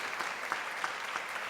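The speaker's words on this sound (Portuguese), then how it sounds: "vamos aplaudir a palavra do Senhor" Congregation in a church service applauding after a scripture reading, a brief, dense burst of clapping from many hands, steady and evenly loud.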